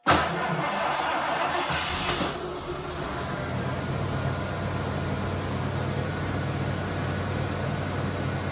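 A Ford Crown Victoria with a ten-year-old uncharged battery cranks in cold conditions, with a brief loud churn before catching and settling into a steady, even idle hum.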